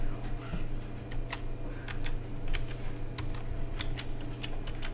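A child types on a computer keyboard, entering a web address and an email, with irregular clusters of crisp key clicks and short pauses over a low steady room hum.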